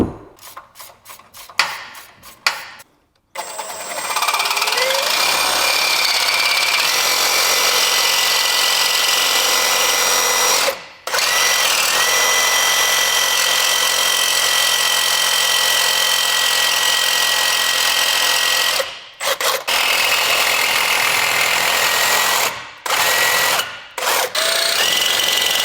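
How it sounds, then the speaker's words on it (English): A Sawzall reciprocating saw cuts through a steel bracket on a 2024 GMC 2500 pickup, running loud and steady for long stretches with a few brief pauses between cuts and some clanking at the start. "Couple minutes with the Sawzall. She's all cut up."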